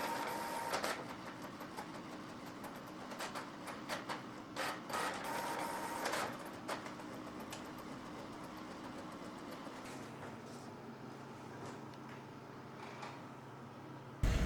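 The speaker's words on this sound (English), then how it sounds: "it looks like it is printing" An XTOOL D8BT scan tool's small built-in printer runs steadily for about ten seconds, a continuous mechanical whir with faint ticking, followed by a lower hum; no one speaks.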